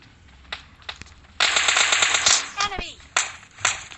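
Gunfire in the video game PUBG Lite: a few single sharp shots, then a loud rapid automatic burst of about a second, followed by more scattered shots, close and punchy.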